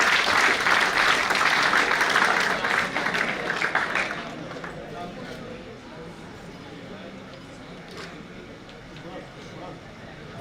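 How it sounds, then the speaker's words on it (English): An audience gives a guest, a police medal recipient, a loud round of applause with many hands clapping densely for about four seconds before it dies away into quiet room noise. "Please give a huge round of applause for Shri Rkgit sir."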